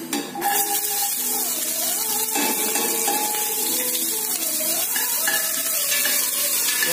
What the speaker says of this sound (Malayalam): ബീൻസ് അരിഞ്ഞതും ക്യാരറ്റ് അരിഞ്ഞതും കൂടെ അതിനോടൊപ്പം ഇട്ട് കൊടുക്കുവാണ്.